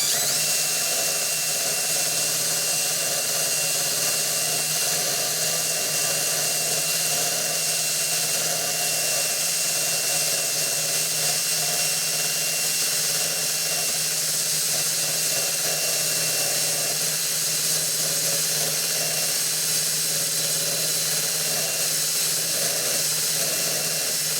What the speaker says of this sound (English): you put this in your drill, and this does a really good job of cleaning off the paint